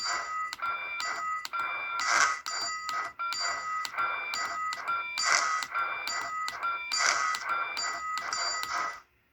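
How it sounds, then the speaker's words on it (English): A model train sound module plays its reversing chuff effect as rhythmic repeating electronic bursts layered with a steady ringing tone, fairly loud and regular, ending abruptly. "Then I'll hit the backup chuff."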